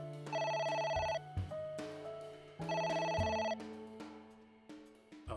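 In the video game AI: The Somnium Files, a phone rings insistently in two long, shrill electronic bursts separated by a short pause, with faint background game tones underneath.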